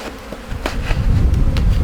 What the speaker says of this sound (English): another cup of bees, pour them in